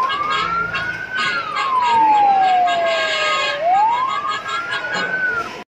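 Fire engine siren at a play area in a mall, a loud wailing tone sweeping slowly up and down in long cycles, close and clear, with faint background clatter.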